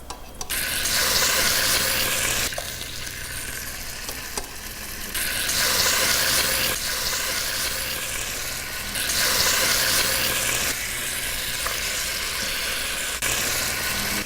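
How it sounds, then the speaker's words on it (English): Chicken sizzles and crackles continuously as it browns in a hot pot, loud and close, with the intensity swelling and easing in several waves. "And things are starting to sizzle, and that's what we want."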